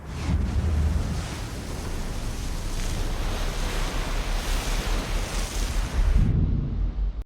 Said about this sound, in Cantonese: 夢中嘅洪水聲同夢外慢鏡嘅水流聲啱好貼合